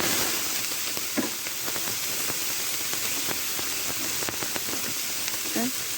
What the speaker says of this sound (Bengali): এবার অল্প জালে ভালো করে ভেজে নিতে হবে।